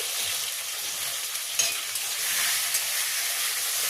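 Tomatoes, ginger paste and chopped chili frying in oil for a Bengali dal tarka, with a steady close sizzle and hiss and occasional soft stirring scrapes of a spatula, no voices.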